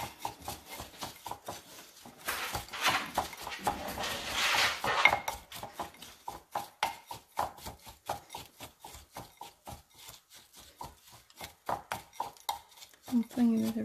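Sugar being stirred into cheesecake ingredients in a bowl, a steady run of close scraping and clinking utensil strokes against the bowl, with a brief louder rubbing stretch midway and a person talking intermittently.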